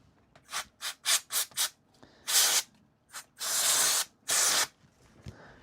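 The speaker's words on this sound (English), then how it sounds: "so we'll give it a quick spray." Short bursts of high-pressure cleaner spray onto laptop parts indoors: five quick rhythmic puffs, then three longer hissing sprays, close and fairly loud, with no talk.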